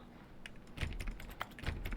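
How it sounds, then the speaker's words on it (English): Keys clatter on a computer keyboard in quick, uneven bursts, close and fairly quiet, with no talking over them. "You sure are typing, Fry."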